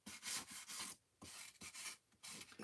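Quick back-and-forth rasping of a small sanding sheet over a painted wooden craft piece, coming in several short bursts with brief pauses between strokes, close and fairly loud with no talking.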